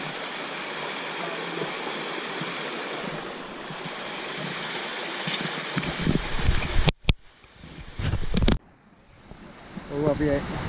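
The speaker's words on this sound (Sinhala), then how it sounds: "අපිට ඇල්ල පේනවා මෙතන. වතුර පාර මේ හරිය හොඳටම සැරයි." A waterfall and a strong, fast current rush over rocks at Ohiya in Sri Lanka. The roar is loud and steady for most of the clip, then breaks off abruptly near the end as people talk.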